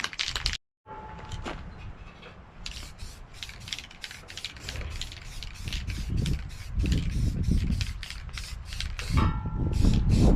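Short repeated bursts of a spray can laying primer onto a car part during a tires and clutch project, a rapid series of hissing puffs that grow louder and denser toward the end, heard close up without talk.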